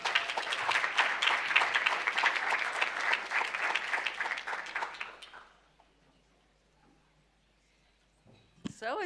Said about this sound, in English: Another clap, let's clap for that too